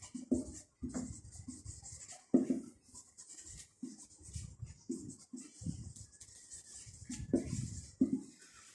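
A pen scratches accounting entries onto paper by hand in short, irregular strokes and taps, close and fairly quiet, with faint background hiss and no talking.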